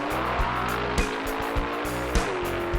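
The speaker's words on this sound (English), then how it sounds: "The emergence of the 428 Cobra jet engine was big news on the street, and even bigger news on the drag strip." A 1968 Ford Mustang with a 428 Cobra Jet engine roars loud and close on a drag strip, a steady deep engine drone with sharp bursts and shifts in pitch, and no talking.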